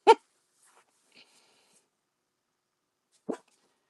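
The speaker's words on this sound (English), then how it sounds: "you heard my dog" A single dog's bark sounds somewhere in a quiet room, followed by a faint rustle and then another short bark a few seconds later, with no one speaking.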